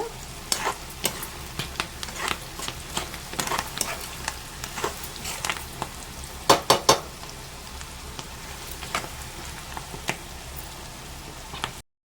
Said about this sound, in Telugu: ఇవన్నీ బాగా ఫ్రై అయినాక